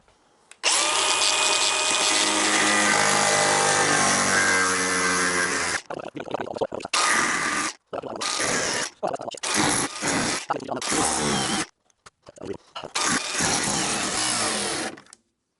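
Cordless power drill driving a self-tapping screw into a car bumper on a widebody Giulia, loud whirring bursts of varying length with short pauses between, close up.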